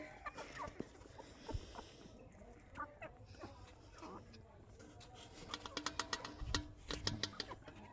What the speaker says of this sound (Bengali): দেখো কত মুরগি।